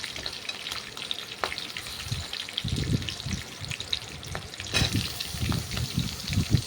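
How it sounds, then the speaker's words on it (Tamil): Green chillies roast in hot oil for poori masala, making a continuous crackling fry sizzle with bursts of spattering and a few sharp pops, close up and moderately loud with no voices. "இந்த பச்சை மிளகா வந்து இந்த ஆயிலில் நல்லா ரோஸ்ட் ஆகணும்"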